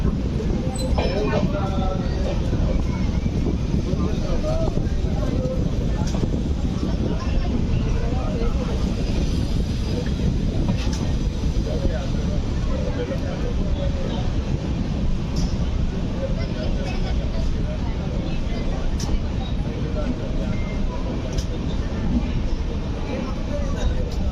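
The Kaghaznagar SF Express rumbles along steadily after leaving Peddapalli Junction, a continuous low rolling drone with faint rattles and clicks, heard from inside the moving train.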